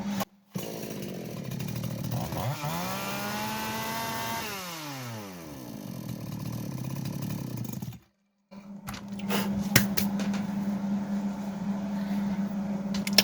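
Kitprom Foresta petrol chainsaw running close up, steady engine drone that revs up and sweeps down, cuts out briefly, then restarts and settles into a continuous buzzing idle.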